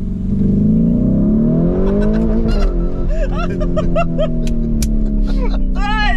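A Lamborghini Urus in Corsa mode revs hard, its engine note rising and falling in loud sweeps with sharp crackles and pops, while people talk excitedly over it inside the car.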